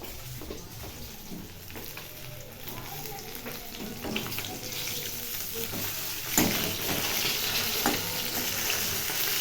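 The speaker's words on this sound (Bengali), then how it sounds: "চলুন আমার মাছ ভাজাটা দেখি" Fish frying in a pan in a home kitchen, a steady, close sizzle and crackle of oil throughout with occasional scraping stirs and a brief louder spatter near the middle.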